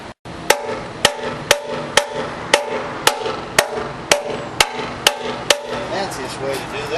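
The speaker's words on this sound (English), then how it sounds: "massage it a bit with a hammer and see what it looks like" A hammer strikes a metal radiator part in a steady series of about a dozen sharp, ringing taps, evenly spaced and close, each leaving a brief metallic ring.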